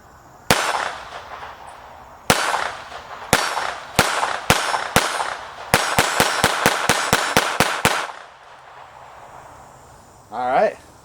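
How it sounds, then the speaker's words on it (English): A Taurus TX22 pistol fires a string of sharp, loud shots. Two single shots come first, then a few spaced shots, then a fast rapid-fire run of about nine, followed by quiet and a brief voice at the end. "So this will be the first shots with the Taurus TX22."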